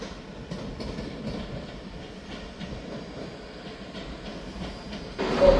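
A Class 334 electric train runs through Edinburgh Waverley station, a steady rumble with soft clickety-clack of wheels over rail joints, rising louder near the end.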